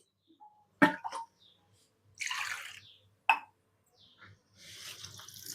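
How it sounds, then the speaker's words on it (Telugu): Short bursts of water poured onto goat trotters coated in spice paste, two brief splashy gushes separated by quiet gaps, with small clinks and drips between them. "కొంచెం నీళ్లు పోసాను"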